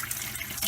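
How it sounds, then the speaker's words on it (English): Cold water runs from a sink tap into a clean basin, a steady close rush with a brief surge at the end. "I'm going to fill it with hot water, with cold water"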